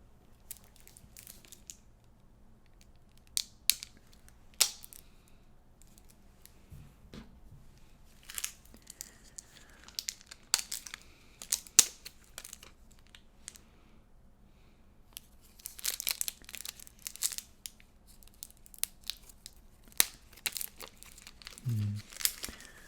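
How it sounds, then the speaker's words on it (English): Plastic wrap on a Battle for Zendikar gift box being cut and peeled away, close crinkling and tearing in irregular bursts with quiet gaps between them. "I need to cut some more plastic."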